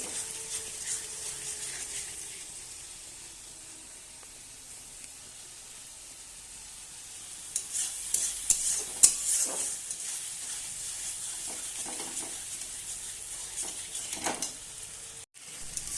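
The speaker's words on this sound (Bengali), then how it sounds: "একদম ভালোভাবে কষিয়ে নেব তেল ছাড়া পর্যন্ত" Spice paste sizzles and fries in hot oil while being stirred for a Bengali kolai (lentil) tarka, a steady soft hiss with scraping stir strokes that grow busier and louder midway.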